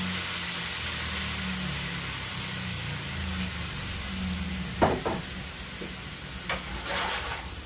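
White wine vinegar hitting a hot pan that held bacon-wrapped pork tenderloin, giving a steady broadband sizzle throughout with a few sharp spits and crackles near the end, close and alone.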